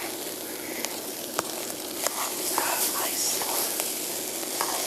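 Rice toasts in a pan for mango fried rice cooked outdoors on a backpacking stove, giving a steady close sizzle and crackle with occasional sharp pops and light stirring scrapes.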